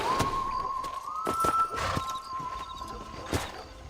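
A horse in Red Dead Redemption Remastered, with sparse clip-clop hoof strikes over a steady tonal game hum and ambient sound, at moderate loudness.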